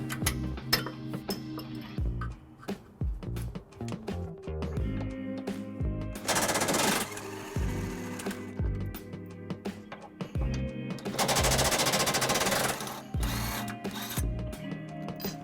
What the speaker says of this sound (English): we need to remove this tow hook here, which is held in by 2 bolts that take a 17mm socket to remove.